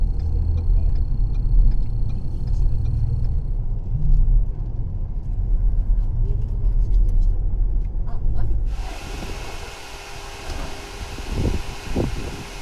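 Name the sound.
car driving on freeway toward Honolulu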